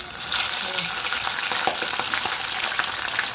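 Fresh corn kernels fry in hot oil, a bright, close crackle of sizzling with rapid irregular pops that stays busy and continuous.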